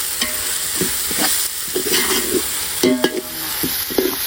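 Spices sautéing in a pan for cumin samba biryani: a steady sizzle with repeated scraping stirs of a spoon against the pan, close and fairly loud, with no one talking.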